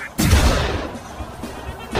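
A single loud, sharp gunshot-like bang rings out close by, then fades into a long, rumbling decay.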